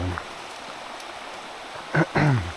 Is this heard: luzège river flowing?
yes